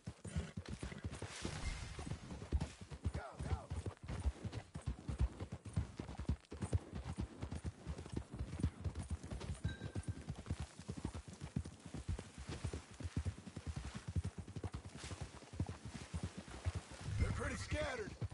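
Horses galloping in a PS4 video game while being rounded up: steady, rapid clip-clop hoofbeats under faint game ambience, with occasional whinnies and voices talking over them.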